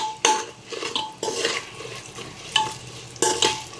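A spoon mixes chilli powder, biryani masala, cumin powder and salt into oil in a pressure cooker pot for egg biryani, producing loud repeated scrapes and clanks against the metal under a steady sizzle.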